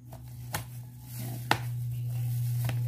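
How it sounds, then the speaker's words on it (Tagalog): Half a kilo of boiled squash being crushed with a ladle in a pot: three sharp, spaced knocks over a steady low hum, with no talking. "Atin na pong dudurugin gamit ng sandok."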